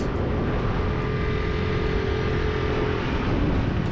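A racing kart engine drones steadily and loudly through a right-hand corner during a race at Wanneroo, a continuous close motor roar with no talk.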